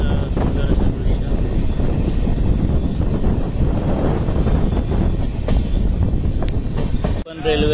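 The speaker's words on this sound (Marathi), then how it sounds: "आता ठाणे स्टेशन सोडलं आहे आणि निघाली आता ट्रेन" The Mandovi Express passenger train runs out of Thane station with a loud, constant rumble of wheels and carriage noise, rushing wind buffeting the microphone throughout until it cuts off abruptly near the end.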